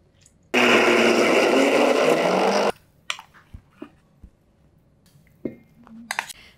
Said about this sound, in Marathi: आता याच प्रकारे सगळी डाळ अशी वाटण करून घेते